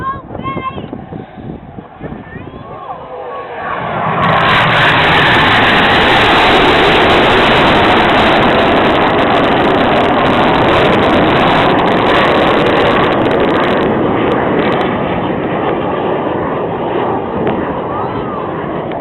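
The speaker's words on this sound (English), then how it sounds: "Here comes Jippo once more with 8 and 9 barrel rolling round 6 and 7 spread trails as they fly the amazing Jippo break." Aerobatic display jets fly a crossing break manoeuvre at a seaside airshow. A steady, loud roar of jet engines rushes in after a few seconds of thin public-address commentary and holds throughout.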